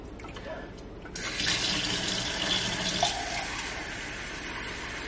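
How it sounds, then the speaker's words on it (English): Water poured into an event centerpiece holding water beads, a quiet trickle that turns into a loud, continuous splashing stream after about a second and runs steadily to the end. "we're going to start pouring water into"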